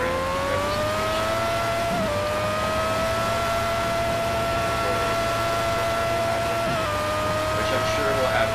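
A Formula A race car engine in Project CARS at the Nürburgring drones at high revs with a loud, steady whine, shifting pitch briefly at gear changes, while a voice talks over it.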